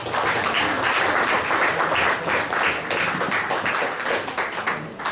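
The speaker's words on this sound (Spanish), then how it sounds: "Un aplauso." Audience applause at a bilingual intercultural education seminar, a steady dense wash of many hands clapping throughout, fairly loud and unbroken from start to finish.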